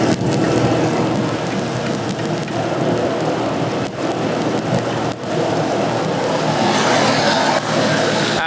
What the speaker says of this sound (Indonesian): Hujan lebat disertai badai.